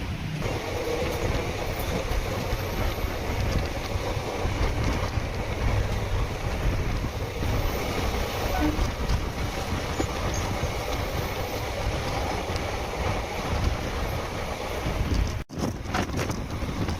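The Karaikal Express passenger train runs from Tambaram to Karaikal, giving a continuous loud rumble of wheels and carriage noise with wind buffeting the microphone throughout and a brief sharp drop near the end.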